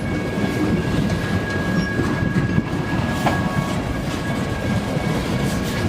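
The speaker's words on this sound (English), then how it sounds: "Oh, here comes one of the tanker, folks, that looks really rusty." Rusty tanker rail car rolling past during CN freight switching in Pembine, a loud continuous rumble of wheels on track with a faint squeal and rhythmic clatter, close by.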